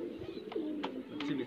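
Jaldar high flyer pigeons coo in a loft, a few soft, low, rolling calls repeating close by in a quiet room.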